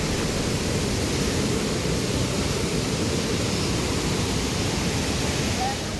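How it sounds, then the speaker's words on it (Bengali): Water of the large, fast-flowing Kanchenjunga Waterfalls near Pelling roars as a steady, loud, unbroken rush of broadband noise from start to end. "জলের কি আওয়াজ!"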